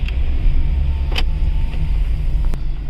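A car drives along with a steady loud road rumble and engine drone inside the cabin, plus a couple of faint brief clicks.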